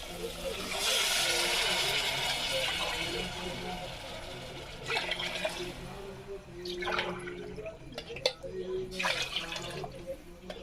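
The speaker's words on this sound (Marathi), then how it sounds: "त्यासाठी चार ग्लास पाणी टाकत आहे" Water pours steadily into a cooking pot of rice for several seconds, then trails off into lighter splashes and drips, with clattering handling noises close by.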